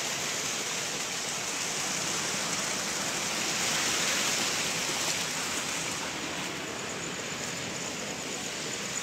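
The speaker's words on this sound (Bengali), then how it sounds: "পানির শব্দ" Tidal water surging along a flooded coastline during an unusually high tide, a steady broadband rush and wash that swells slightly midway, with no voices over it.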